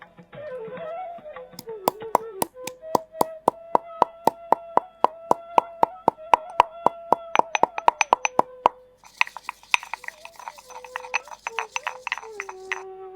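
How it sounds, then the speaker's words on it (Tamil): Herbal ingredients are pounded in a mortar in a fast, even run of ringing strikes, then shift to a brighter, lighter patter of taps near the end. "உரலில் போட்டு நல்லா இடிச்சுக்கிறலாம்."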